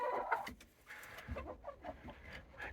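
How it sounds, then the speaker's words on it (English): A live hen clucks in short, uneven bursts, fairly close and moderately loud, with small rustling movements between calls and no talking. "this chicken here with us today is Gertie."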